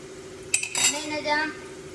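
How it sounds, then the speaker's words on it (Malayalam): Kitchen vessel and metal cutlery being handled, a couple of close, bright clinks and a ringing metallic scrape lasting about a second over a quiet background. "നമ്മളിവിടെ ഒരു പാത്രം എടുത്തിന്."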